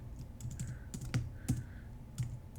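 Computer keyboard typing during macOS app coding, a quick irregular run of close, crisp key clicks with brief pauses, no voices.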